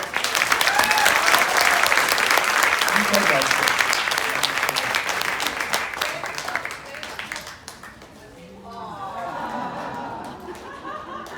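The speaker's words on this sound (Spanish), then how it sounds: "Un aplauso, por favor." An award ceremony crowd in Chicago applauds the Legado Sor Juana honoree with dense, sustained clapping and some chatter, which fades after about seven seconds as a voice speaks briefly over the quieter room.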